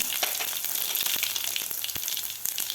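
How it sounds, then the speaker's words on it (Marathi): Five or six cloves of chopped garlic sizzle in hot oil with cumin and mustard seeds for sweet corn poha, a steady, close crackling hiss with small pops running throughout, no voices. "इथं पाच ते सहा पाकळ्या मी लसणाच्या चॉप करून घेतलेल्या आहेत ते घालायच्यात आपल्याला"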